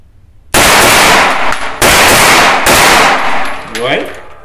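Loud bursts of automatic fire from a CZ Scorpion EVO3 S1 in 9x19, three long rattling strings back to back with brief gaps, the last tailing off into a short voice.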